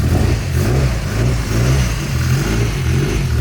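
A Nissan S15 engine, running without a pipe after a fire, revs in repeated rising surges and bogs down between them, sounding close, loud and rough, with no talking.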